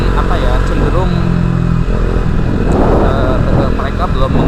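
A KTM RC250 sport motorcycle engine drones close and loud with a shifting, rising pitch as it pulls, while someone talks over it throughout.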